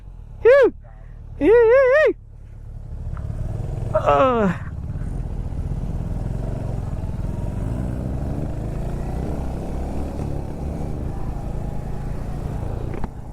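A Kawasaki ZX10R motorcycle ridden on a weekend ride gives a steady low engine drone that runs continuously after a few short bursts of loud talk at the start.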